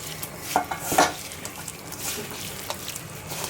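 Spices, chili powder, green chilies and a generous pour of oil being mixed by hand in a bowl, with soft wet squishing and a few light clinks against the bowl, two sharper knocks standing out early on.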